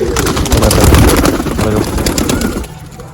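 Pigeons coo loudly and close up at a loft, their low throaty calls overlapping with rustling and fluttering before fading off at the end.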